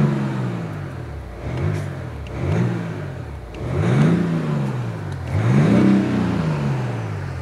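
A BMW 840d coupe diesel engine revs in repeated swells, rising and falling roughly every second or so with a low growling exhaust tone, fairly close and loud, with no talk.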